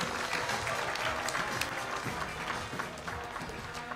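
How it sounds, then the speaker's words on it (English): An audience at a 30th-anniversary celebration claps in a dense, sustained round of applause that stays steady and fairly close for the whole moment. "Big round of applause, ladies and gentlemen"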